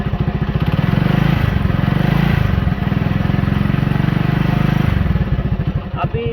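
A motorcycle engine is revved hard and held at a high, steady drone for several seconds before easing off toward idle. The sound is loud and close, with a rough, pulsing mechanical roar.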